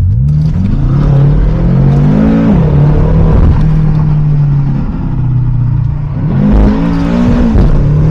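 BMW M5 Competition V8 revving in a partly enclosed space, heard from behind the car: loud, close blips rising and falling, then a sustained high-revving hold and another rev burst, with no talk.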